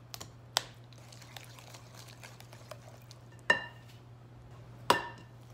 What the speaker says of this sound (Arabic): هسه هذا نخلطوا كلهم مثل ما تشوفون، التمر والموز وباقي المكونات